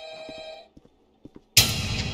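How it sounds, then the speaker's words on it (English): Telephone ringing in a Roblox Five Nights at Freddy's game: a steady electronic ring tone cuts off, followed by a few soft clicks, then a sudden loud burst of noise. "Answer the damn phone."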